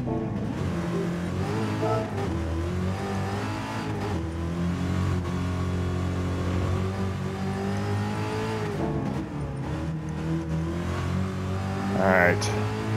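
Car engine in Gran Turismo 7, a halfway modified car on a cruise, revving and shifting steadily with rising and falling engine tones, with people talking over it.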